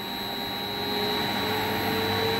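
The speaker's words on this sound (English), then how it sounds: "it starts these three motors" Several three-phase electric motors run up to full speed after a VFD relay output switches them on, giving a steady, loud whirring hum with a tonal whine that swells slightly and then holds, with no talking.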